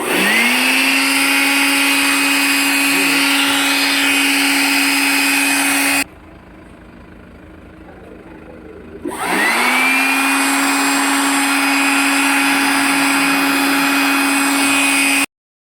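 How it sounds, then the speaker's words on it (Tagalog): A loud, steady whining air blower runs while drying a dirty car, cuts out abruptly for about three seconds, then spins back up to full power and keeps running. "Gamit natin blower."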